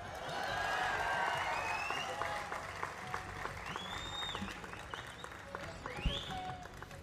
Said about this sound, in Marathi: त्याच्यात टाळ्या वाजवण्यासारखं काही नाही आहे.